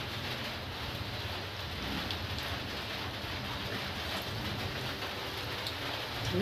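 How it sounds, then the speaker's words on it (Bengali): Semolina pakoras fry in oil over a low flame, giving a dense, even crackle and sizzle that stays steady from start to finish. "এখন আমি একটা একটা করে সবগুলো ভেজে নেব।"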